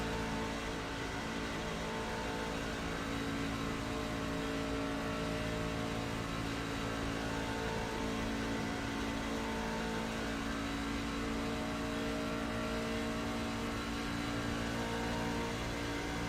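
Racing trucks in a dirt racing video game roar continuously, a steady, dense engine drone with sustained revving and no clear pauses.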